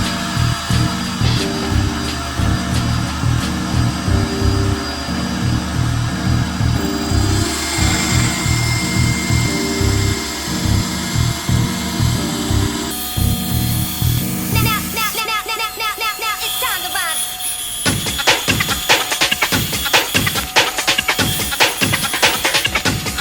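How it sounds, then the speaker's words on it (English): A bandsaw cuts a G10 fiberglass sheet for a slingshot build, its steady motor whine broken by rhythmic cutting pulses, then a louder, harsher grinding stretch toward the end. "we're going to cut it out on the bandsaw"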